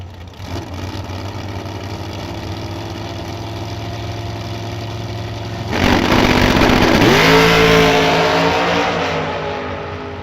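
Outlaw drag race cars at Kil-Kare Dragway idle with a loud rumble, then surge into a roaring full-throttle launch, with engine pitch climbing as they accelerate down the strip, heard up close.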